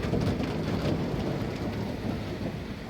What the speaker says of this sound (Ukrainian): О, ще й гримить.